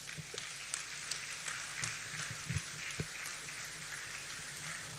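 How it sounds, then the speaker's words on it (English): Applause from the audience at a national press conference on technical and vocational education in Nigeria, a steady, dense patter of many hands clapping at moderate distance that continues for several seconds with a few sharper individual claps. "I believe we can make that applause a bit louder."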